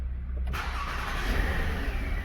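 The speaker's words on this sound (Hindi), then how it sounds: "और अब गाड़ी को मैं स्टार्ट कर लेता हूँ" A Toyota's engine cranks and catches about half a second in, then settles into a steady idle, close and fairly loud, with no talking.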